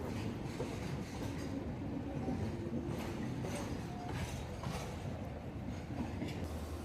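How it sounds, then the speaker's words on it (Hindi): Humsafar Express train pulling out of Ludhiana station, a steady low rumble of rolling carriages with faint rhythmic wheel clatter and occasional higher squeaks, continuous and moderately loud throughout. "ठीक 10:50 पर हमारी ट्रेन चल चुकी है लुधियाना जी"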